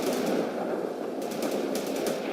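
Bradley infantry transport firing in World in Conflict, a steady burst of rapid automatic gunfire with a dense, continuous rattle at even loudness throughout.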